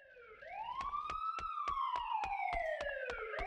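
Police sirens wail from the video game Grand Theft Auto 2, a loud rising-and-falling electronic tone that sweeps steadily up and down, punctuated by a regular rapid series of sharp clicks or beats throughout.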